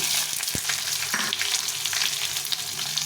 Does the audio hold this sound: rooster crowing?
no